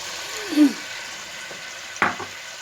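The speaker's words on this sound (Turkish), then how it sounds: "soğanını kavuruyoruz" Onions sauté with meat in a pan, giving a steady low sizzle broken by a couple of brief scraping and clanking stirs from a utensil.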